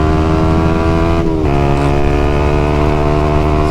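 A 2020 Yamaha YZF-R125 engine drones loud and close while riding in a straight line in a high gear, its steady rising whine dipping briefly mid-ride before holding on.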